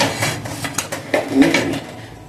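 Homemade wheat tawa pizza being lifted out of a pan with a utensil, with several short metallic scrapes and clinks against the pan at close range, no talking.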